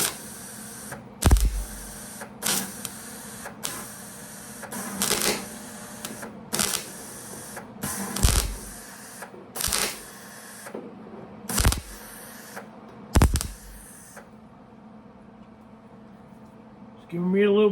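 Short bursts of a welder zapping a pinhole in the quarter panel of a 1972 VW Super Beetle, about eight sharp crackling zaps spaced a second or two apart, loud and close, over low shop hum.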